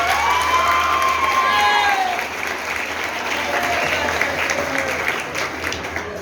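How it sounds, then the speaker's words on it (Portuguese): Audience at a literary gathering bursts into loud applause and cheering for a female assistant, with whoops and excited voices rising over steady clapping that continues throughout. "Dá um aplauso para ela novamente."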